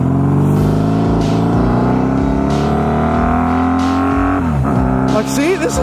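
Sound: motorcycle with drag pipes accelerating at half throttle

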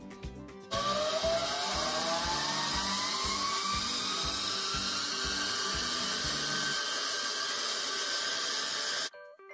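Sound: electric motor accelerating a flywheel

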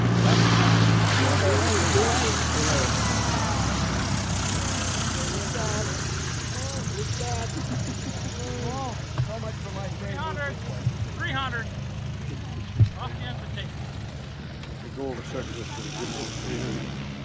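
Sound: Super Cub light airplane approaching to land

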